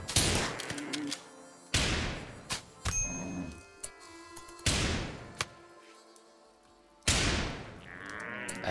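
Gunfire from RimWorld combat sounds as several loud, sharp bursts spaced a few seconds apart, each with a decaying tail, and quieter crackles in between.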